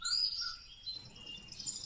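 Birds chirp and tweet outdoors in short, high calls and brief trills, moderately faint over quiet background noise.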